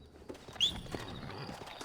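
Rhythmic hoof clops from a horse in the video game Red Dead Redemption, moving at a steady pace, fairly close, with a brief sharp chirp near the start.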